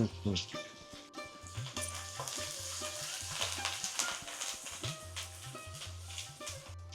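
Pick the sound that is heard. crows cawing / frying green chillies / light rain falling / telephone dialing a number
frying green chillies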